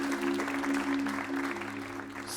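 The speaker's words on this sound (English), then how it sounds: "Can you please give him a hand of applause?" Applause for the sponsor at a golf day gathering, moderate patter of clapping from a modest crowd, fairly close, with a steady low hum running underneath throughout.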